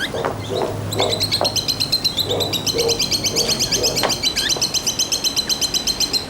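A bird chirps in a rapid, repeating rhythm, a steady string of high tweets, loud and close, with faint scattered sounds underneath.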